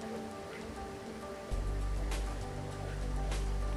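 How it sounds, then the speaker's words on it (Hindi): Sweet water poured into golgappa pani begins partway in as a steady, close splashing gush into the liquid, following a quieter stretch of background noise. "और थोड़ा सा हम मीठे वाला पानी डाल लेंगे"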